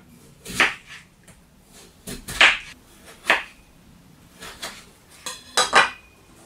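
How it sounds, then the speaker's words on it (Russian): Sharp knife chops on a cutting board, dicing raw potato into small cubes, irregular single and double strikes with short pauses between, close and fairly loud. "Два сырых картофеля нарезаем мелко кубиками."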